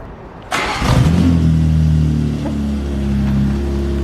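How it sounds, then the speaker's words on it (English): A heavily modified BMW M4 G82 engine starts with a sharp burst, then settles into a steady, loud, close idle with a deep low hum. "I have not heard this car that quiet in a very long time."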